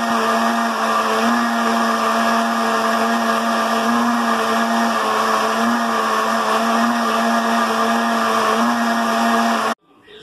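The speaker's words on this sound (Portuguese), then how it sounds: "Agora, a gente vai colocar no liquidificador e vai bater tudo." A blender mixing homemade Ninho milk pudding runs loudly and steadily with a high whirring motor whine for several seconds, then abruptly switches off.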